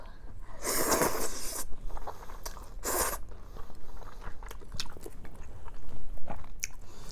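Close crunching bites and chewing of fried squid tempura eaten with udon in broth, loud crisp bursts repeating at irregular intervals with no talking.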